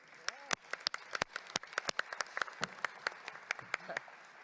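Scattered applause follows a draft resolution being carried by consensus at a chiefs' assembly, a faint run of separate claps, irregular and fairly sparse, heard at a distance.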